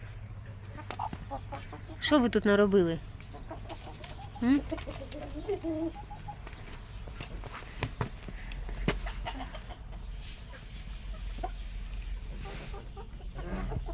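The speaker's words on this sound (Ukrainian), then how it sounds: "Карликовий півник." A small bantam rooster crows nearby, then hens cluck and murmur softly around it, while a person speaks briefly over the farmyard background.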